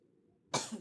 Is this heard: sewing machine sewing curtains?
no